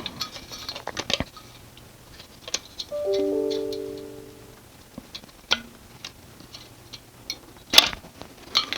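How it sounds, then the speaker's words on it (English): A fan unclipped from a Cooler Master CPU air cooler during a gaming PC build: scattered sharp plastic clicks and snaps, with a louder snap near the end and a brief mechanical whir midway, close up and without talk. "take the actual fan off of the Cooler Master, because they always recommend you do that, and then you put the fan back on, and it's just a snap-on"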